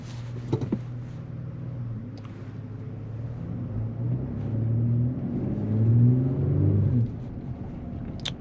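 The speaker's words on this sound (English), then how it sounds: "still sounds like a good beefy V6 either way" A Chevy truck's V6 engine on a test drive through a residential area, rumbling at moderate volume as it revs and builds, swelling louder near the end before easing off.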